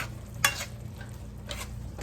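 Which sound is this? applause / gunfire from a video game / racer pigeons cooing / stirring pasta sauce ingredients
stirring pasta sauce ingredients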